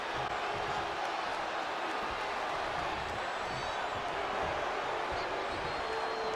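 Arena crowd in the WWE 2K20 wrestling game booing, a dense steady roar of voices filling the whole stretch under faint commentary.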